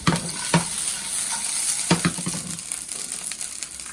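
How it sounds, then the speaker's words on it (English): Vegetables sauté in a hot pan with olive oil, salt and pepper, a steady bright sizzle broken by a few scraping stirs of the spatula, close and continuous with no voices. "As soon as pan hot, so I'm going to add the pepper."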